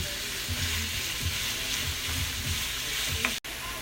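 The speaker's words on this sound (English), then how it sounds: "you want to hear a sizzling sound" Pork sizzles steadily in a hot pan with a constant crackling hiss and occasional soft stirring scrapes, ending with a brief click.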